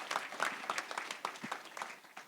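An audience applauds Bret Stephens, a New York Times columnist, with steady, dense clapping that continues throughout without a break.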